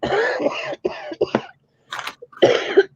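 Several harsh, wet coughs and throat-clearing bursts come close to the microphone in uneven clusters, separated by brief pauses of silence.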